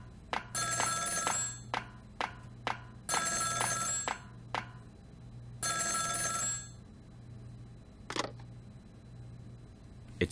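Old-fashioned telephone bell ringing in the Ghost Trick video game, bursts of bright trilling rings repeating in an uneven rhythm over a low steady game music hum, with short click-like effects between rings.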